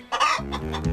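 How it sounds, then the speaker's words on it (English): A single sharp chicken squawk sound effect rings out close and loud in a children's television program, a brief cackling burst that trails off quickly. "there's a squawk"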